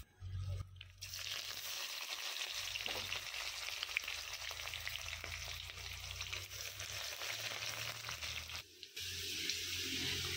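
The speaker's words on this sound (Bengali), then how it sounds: "পেঁয়াজ ভাজা হয়ে গিয়েছে" Onions frying in hot oil at home give a dense, continuous sizzle with a faint low hum beneath it, steady throughout and close.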